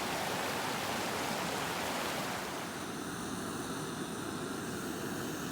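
A stream flows with a constant broadband rushing wash of water, steady and fairly soft, with no voices.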